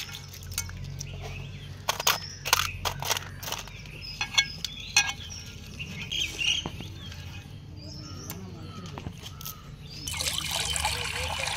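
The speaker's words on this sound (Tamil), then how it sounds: "இது போல் தண்ணியில் போட்டு நல்லா அலசணும்." Mud crabs being swished and rinsed in water before cooking a country crab gravy, with irregular splashes, trickles and clacks of shells, close and fairly loud, joined by light background sounds.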